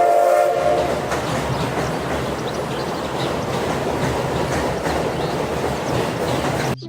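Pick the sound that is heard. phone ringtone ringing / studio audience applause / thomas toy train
thomas toy train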